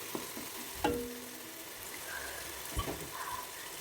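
Fried rice masala with black pepper powder sautés in a pan, making a soft continuous sizzle broken by a few sharp stirring clanks and scrapes, with no voices.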